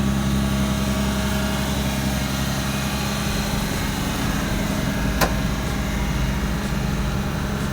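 A Volvo 244 DL engine idles with a slight stumble, a steady, even drone and low continuous rumble with a faint uneven flutter and one brief sharp click near the end.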